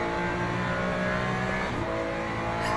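Race car engine from the Le Mans Ultimate racing game, a loud sustained high-revving drone with shifting pitch, steady and close with no voices.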